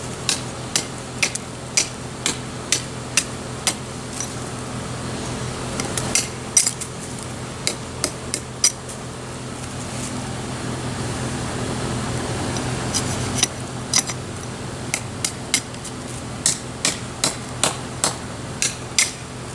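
Knife scraping and stripping bark off a hardwood tree limb outdoors, a steady rasping texture broken by repeated sharp clicks and taps at a quick, uneven rhythm, close and moderately loud with no talking.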